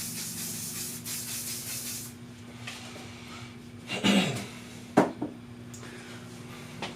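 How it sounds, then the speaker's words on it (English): Hissing spray from a bottle onto hair in a quiet room, a broad burst of mist in the first two seconds followed by softer rustling and a couple of brief clicks. "I'm gonna spray down the hair."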